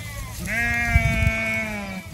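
A single loud, wavering sheep bleat close by, held for over a second above faint background noise.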